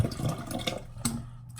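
Drinking water pours in a steady, close splashing stream that ends with a brief final trickle.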